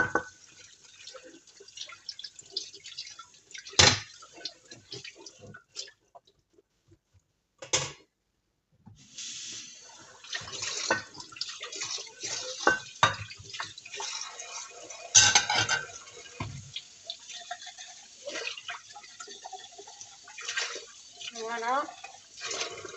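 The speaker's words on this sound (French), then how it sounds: "je mets la poêle qui était super grasse. Je la mets dessous. Et je viens rincer" A very greasy frying pan rinsed under running tap water in a home kitchen, with splashing water, drips and clinks of the pan, under someone speaking French.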